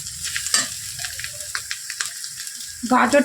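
Chopped carrots frying in oil in a pan for a Bengali vegetable chop, a steady close sizzle with some stirring scrapes and a brief voice near the end.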